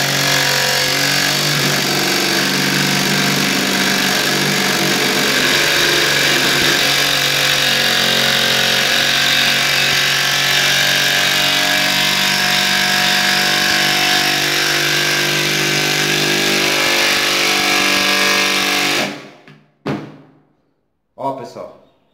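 A Makita 12V impact wrench drives a screw in one long, loud, continuous run lasting nearly twenty seconds, then stops abruptly and gives two short follow-up bursts.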